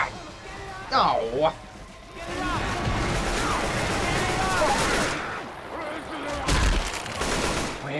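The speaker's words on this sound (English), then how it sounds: "Looks like there's a pipe bomb in here." Pipe bomb in Left 4 Dead 2 going off amid a sustained roar of gunfire and chaotic crashing, loud and dense, with a player's voice briefly exclaiming at the start.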